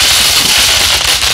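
A very loud, dense crackling burst from fireworks set off near alcohol-fuelled revelry, a sustained close fizzing crackle over about a second.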